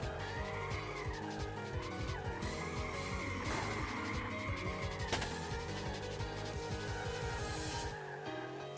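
Drifting car in a racing game, a Toyota 86 sliding sideways with continuous loud tire squeal over a steady high-revving engine that wavers in pitch as the throttle changes, alone without voices.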